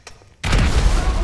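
A grenade blast in GTA V: a sudden loud boom erupts after a brief quiet moment and rolls on as a dense, close rumble.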